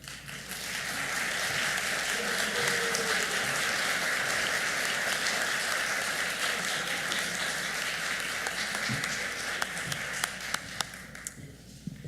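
Audience applause at a medical school class day ceremony, a broad sustained roar of many hands clapping that holds steady for most of the stretch and thins slightly toward the end, with scattered louder claps near the close.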